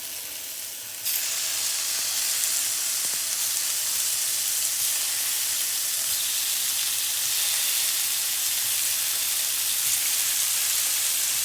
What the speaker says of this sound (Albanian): Do skuqim pulën.